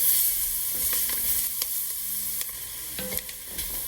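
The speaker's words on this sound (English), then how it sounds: "It's going to sound loud, sizzling. That's normal." Chopped onions stirred into a roux sizzle steadily in a hot pan, with a continuous bright hiss broken by occasional stirring scrapes and small pops, close up and with no talking.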